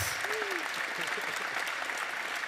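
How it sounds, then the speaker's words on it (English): Audience applause for the Softra Photonics winners at the Startup Awards 2017 ceremony, a steady dense wash of clapping filling the whole stretch, with a brief voice-like tone near the start. "Big applause for the winners, Softra Photonics."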